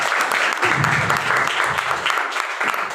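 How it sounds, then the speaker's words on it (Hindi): Loud, dense audience applause at a packed hall event in India, steady clapping from many hands filling the whole stretch, with some low crowd murmur underneath. "जोरदार तालियां होनी चाहिए।"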